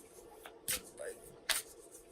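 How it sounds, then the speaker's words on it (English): Oracle cards being shuffled by hand, giving two brief papery riffling bursts with soft handling noise between them, close and fairly quiet. "you may hear me shuffling the Sacred Traveler Oracle cards that I'm working with today"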